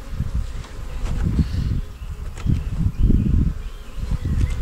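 Dense, steady buzzing of many honeybees close by at an open hive, a low droning hum that swells and fades in waves without pause.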